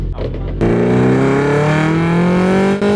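A Caterham two-seater race car engine on a raceway shakedown revs up sharply and keeps climbing in pitch as it accelerates, loud and close, after a brief quieter idle at the start.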